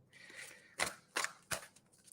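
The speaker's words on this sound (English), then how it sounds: "M. Watson, I'm just giving these cards a bit of a shuffle" Tarot cards shuffled by hand give faint papery rustling and a few crisp snapping clicks, heard close up in a quiet room.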